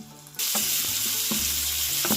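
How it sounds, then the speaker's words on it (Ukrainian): Onions and carrots sizzle loudly in hot oil over medium heat, a constant bright crackle that starts suddenly, with a low hum and occasional clinks underneath. "обсмажуємо це все на олії до м'якості"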